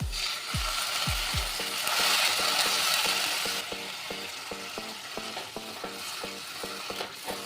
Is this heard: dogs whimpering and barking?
no